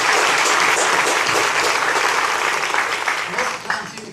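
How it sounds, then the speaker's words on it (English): Loud, dense applause from an audience at an electric cooperative gathering honoring retired employees, a sustained wash of clapping that tapers slightly toward the end. "we'd like to give y'all an applause."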